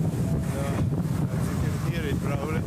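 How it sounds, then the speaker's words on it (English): Strong wind buffets the microphone of a cyclist riding into a headwind on a mountain pass, giving a loud, continuous roaring rumble with faint gusty swells throughout. "I have probably a strong headwind most of the way."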